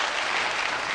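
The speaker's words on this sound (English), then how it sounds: "Your audience, which will clap apparently anything, is frivolous." Steady, dense applause from a debate audience, continuous and fairly loud for the whole second, with no break and no voices standing out above the clapping.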